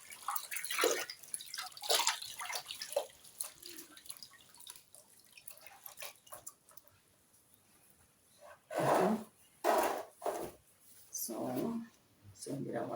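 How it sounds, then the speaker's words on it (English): Hands are washed with disinfectant under running water: soft drips and splashes, then louder gushing bursts from the tap near the end, with a person talking over the first part. "We are washing our hands with the disinfectant."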